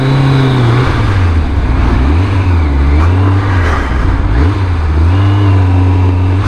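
Kawasaki ZZR 1100 motorcycle at roughly 100 mph after a front tyre valve blowout, a loud continuous engine and wind roar with the engine pitch rising and falling steadily throughout.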